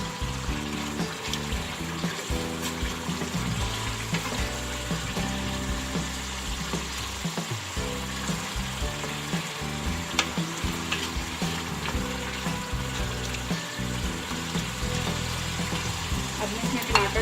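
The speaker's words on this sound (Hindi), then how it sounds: "कीमा भी अच्छे से गल गया है। अब इसकी भुनाई कर लेंगे।" Minced meat (keema) with pressed garlic sizzles and fries steadily in a pan, with repeated scraping and stirring of a utensil throughout, close and continuous with no speech.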